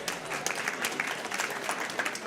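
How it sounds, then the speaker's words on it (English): Attendees at a business conference applaud, a fairly soft but continuous patter of many hands clapping in a room for a couple of seconds. "Give yourself a big round of applause for being here."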